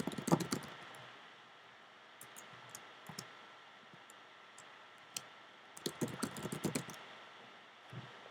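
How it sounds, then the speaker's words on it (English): Computer keyboard typing in clustered bursts of quick keystrokes with pauses between, fairly faint against a steady background hiss while someone works on HTML code. "Let's type some other paragraphs."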